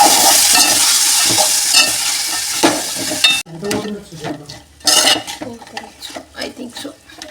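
Sprouted legumes stirred in a pan for sprouts curry, with scraping and sizzling that is loud and steady at first, then drops to intermittent clinks and stirring scrapes with faint voice in the background.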